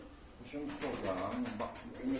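Pigeons coo softly in a short burst, with people talking close by over the birds.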